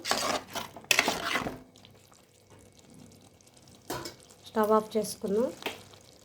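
A spoon scrapes and stirs through a pot of brinjal, tomato and fish curry, with close clanks against the metal and soft, wet churning, and a person talks over the later stirring.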